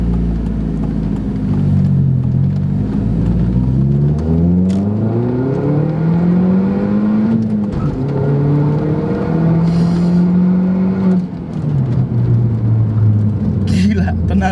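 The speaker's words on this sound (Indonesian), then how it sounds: "Sekarang gua mau coba tenaga mobil ini." A manual Audi TT MK1 Type 8N from 2000 with 180 PS accelerating hard, its engine note climbing through several gears with rising whines and dips at each shift, loud and close from inside the car.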